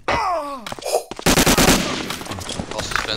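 Gunfire in a competitive first-person shooter match, a sharp burst of rapid shots after a brief wailing tone and a couple of isolated cracks, loud and close, with some game noise trailing after.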